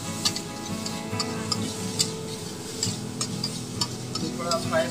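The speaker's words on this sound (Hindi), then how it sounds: "हल्की सी किचन किंग और चिल्ली पाउडर हल्का थोड़ा सा, इसको हम अच्छे से फ्राई करेंगे और पूरी सुखा देंगे।" Kitchen king masala and chilli powder frying dry in a pan for a vegetable biryani, with a steady sizzle under repeated sharp ticks and taps of a spoon against the pan, close up.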